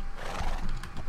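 A horse in the video game Minecraft gives a short, close neigh with a quick whinnying flutter, lasting about a second with no voices over it.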